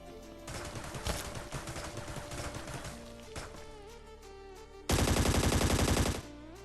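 Rapid bursts of automatic gunfire crackle in the game ScarFall 2.0, fired from a nearby building, first scattered shots over a humming background, then a dense, loud volley near the end.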